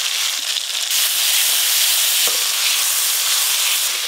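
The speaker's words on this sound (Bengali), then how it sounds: "টমেটো একটু ভালো করে ভেজে নিয়েছি" Tomato with black cumin (nigella seeds) frying in oil for a hilsa fish curry, a steady loud sizzle and hiss filling the whole stretch without pause, close by, with a faint stir or tap now and then.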